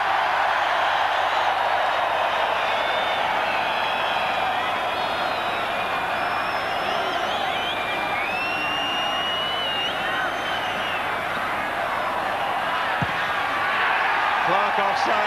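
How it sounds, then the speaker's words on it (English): A rugby stadium crowd at a New Zealand versus British and Irish Lions test counts down the clock, a broad steady roar of many voices under continuous commentary from start to finish. "The whole crowd now counting down the clock."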